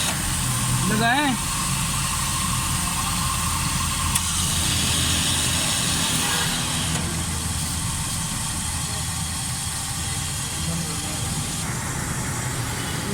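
A Suzuki Alto 1000cc engine runs steadily after a fuel-jet fault repair, a smooth continuous idle hum close by, with people talking over it throughout.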